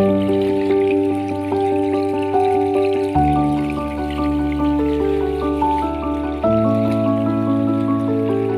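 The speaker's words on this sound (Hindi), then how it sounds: "एक्सटेंशन पाइप साहाज्य रे पानी आमर आसुछि।" Irrigation water gushes steadily from an extension pipe onto farmland with a constant rushing flow, accompanied by a loud, droning pump or engine hum throughout.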